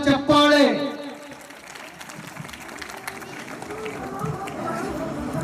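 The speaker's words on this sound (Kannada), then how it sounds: "ಜೋರಾದ ಚಪ್ಪಾಳೆ." Loud applause from a crowd at a live Shri Sharanabasaveshwara Purana religious discourse programme, swelling briefly at the start and then fading into a steady murmur of crowd noise with voices talking.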